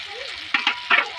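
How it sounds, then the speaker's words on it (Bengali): Fried potatoes are stirred into hot spiced oil, with three quick scraping stir strokes rising over a low, steady sizzle in a brief stretch. "আলু দিয়ে ভালো করে নেড়ে নেব।"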